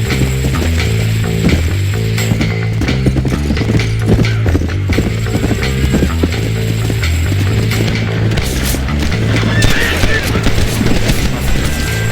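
Hoofbeats of a horse ridden in Red Dead Redemption 2 clatter in a steady galloping rhythm over a low rumbling game score, with faint talk over it.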